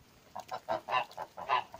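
Domestic geese suffering in hot weather honk in a series of short, nasal calls, several birds close by, repeating irregularly with brief pauses and no talking.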